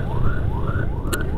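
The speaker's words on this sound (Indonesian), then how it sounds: "ada ambulan di belakang" An ambulance siren sweeps upward in repeated wailing rises over a low rumbling of traffic, fairly close and steady, heard from a motorcycle.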